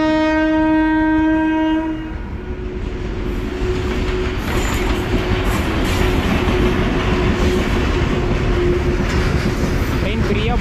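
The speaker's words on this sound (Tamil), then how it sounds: "இந்த ட்ரெயின் பார்த்தீங்கன்னா மயிலாடுதுறை வரைக்கும் போகக்கூடிய மயிலாடுதுறை எக்ஸ்பிரஸ்" The Mayiladuthurai Express passes on Southern Railway track, opening with a loud sustained horn blast for about two seconds, then a heavy continuous rumble and clatter of wheels and cars rolling close by.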